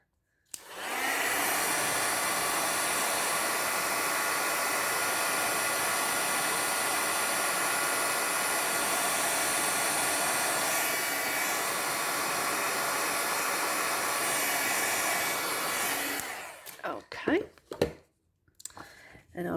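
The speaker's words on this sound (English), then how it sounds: "And we're just going to heat it up." A heat tool blows hot air over embossing powder on a card, a loud steady whirring hiss that starts abruptly and runs unbroken for about fifteen seconds before switching off, followed by a few small handling clicks.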